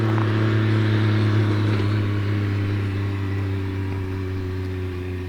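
A Can-Am Maverick X3 fitted with an aftermarket exhaust drones steadily and loudly nearby, with a strong low hum that fades slightly toward the end.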